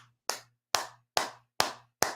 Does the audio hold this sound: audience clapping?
yes